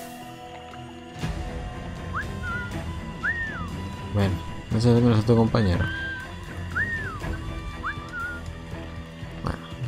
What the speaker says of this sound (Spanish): el silbido este va genial